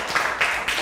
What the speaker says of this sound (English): Clap for him, everybody.